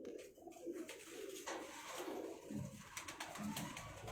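Pigeons coo softly in low repeated phrases through a steady, fairly quiet background, from a flock of racing pigeons kept for high flying in Faisalabad; no one speaks.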